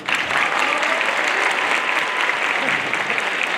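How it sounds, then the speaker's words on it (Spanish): An audience applauds a science talk speaker at a science-and-fiction event, steady dense clapping at close range that holds level throughout, with no speech over it. "Fuerte aplauso para Gabriel León"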